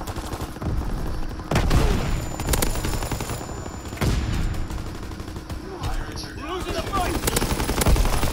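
Rapid bursts of gunfire crackle densely and continuously, loud and close, with heavy booming thumps mixed in throughout.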